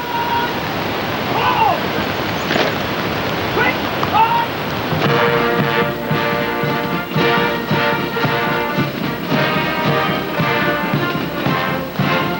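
Heavy rain falls during outdoor coverage of the 1997 Hong Kong handover, a steady, dense hiss throughout, joined about halfway by sustained tonal sounds like a band playing.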